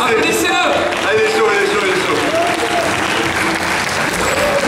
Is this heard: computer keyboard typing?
no